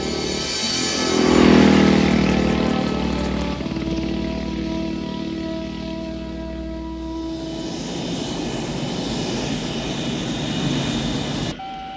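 An airplane engine roars loudly, swells to a peak, then settles into a steady, sustained drone with a whine layered over it, cutting off abruptly near the end.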